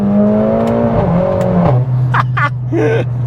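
A 500 bhp Mercedes A45S AMG fitted with a new Cobra Sport exhaust accelerates hard from close by, its engine note rising through the gears in a loud, continuous run with short breaks at each shift.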